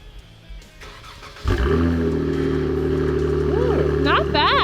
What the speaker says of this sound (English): First cold start, V6, Borla S-type exhaust.